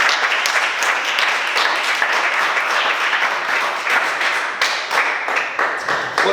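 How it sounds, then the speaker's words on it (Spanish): A church congregation applauds for the Lord in a loud, dense, continuous wave of clapping with a few taps and thuds mixed in. "Denle un aplauso al Señor."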